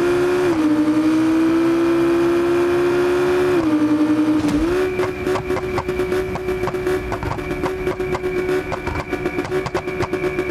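A Lamborghini Gallardo in BeamNG Drive roars at a high, steady engine drone, shifts down briefly, then climbs again into a rougher, rattling strain, loud and close throughout with no talk.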